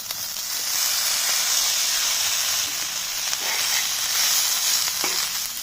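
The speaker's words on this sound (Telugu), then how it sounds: "సన్నటి మంట మీదనే ఫ్రై చేసుకోవాలి" Chicken livers and hearts frying over a low flame on an iron pan, giving a steady, close sizzle and hiss with faint stirring scrapes throughout.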